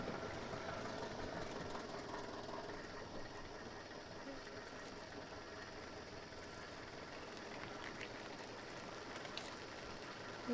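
Taxi car engine runs steadily at a low rumble from inside the vehicle, a constant droning hum with faint road noise and no clear voices.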